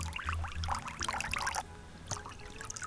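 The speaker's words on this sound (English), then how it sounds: "it's important to give everything a good rinse" Canned beans get rinsed under running water for a bean salad, a steady close splashing trickle with a brief break partway through.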